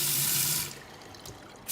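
Kitchen tap running into a double basin sink, a steady hiss of flowing water for just over half a second before it stops, leaving quiet room tone.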